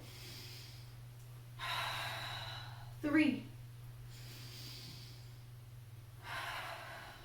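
Slow, faint breaths during a beginner yoga core workout, air drawn in and pushed out in spaced bursts, with one sharper, snort-like exhale near the middle and a voice briefly counting.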